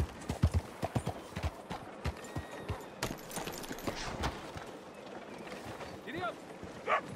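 Horse hooves clip-clop steadily in Red Dead Redemption 2, a rhythmic run of close, distinct hoof strikes on hard ground, with occasional game voices and ambient sounds mixed in.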